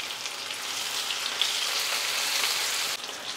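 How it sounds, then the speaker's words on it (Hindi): Onions hiss and crackle in hot oil after cumin in a pan, a steady, close, even frying sizzle with no voices over it. "जीरा जैसे ही फ्राई हो जाए हम डाल देंगे प्याज। प्याज को हम 3 से 4 मिनट फ्राई करेंगे"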